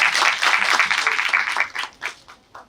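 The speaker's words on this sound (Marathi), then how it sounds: "जोरदार टाळ्या" Audience applause at the Sarthi Sanman Sohla 2025 event at MGM University, a dense burst of clapping from a crowd that holds steady for about two seconds, then thins into scattered claps and fades.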